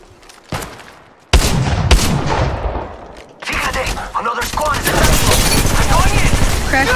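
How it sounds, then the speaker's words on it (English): Rapid automatic gunfire and sharp shots crackle in Apex Legends Mobile, loud bursts starting and stopping in quick succession up close, with game voice lines mixed in. "Opening fire on the enemy."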